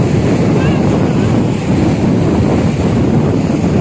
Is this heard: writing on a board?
no